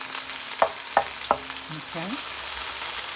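Collard, kale and turnip greens cook in a pot with a soft steady sizzle, three sharp utensil clacks near the start and a brief spoken word.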